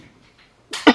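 Someone coughs twice in quick succession at an outdoor target-shooting practice, two short sharp bursts right at the end after near silence, close and fairly loud.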